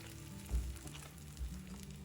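Ground masala paste frying in oil for restaurant-style chicken masala: a low, steady sizzle close by, with two soft thumps of stirring in the pan and no voices.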